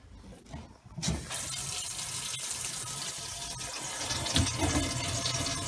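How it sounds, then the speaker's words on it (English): Kitchen sink tap turned on full blast, giving a sudden rush of water that becomes a loud, steady, hissing stream splashing into the basin, continuing without pause to the end. "The first thing we're going to do is turn the sink on full blast"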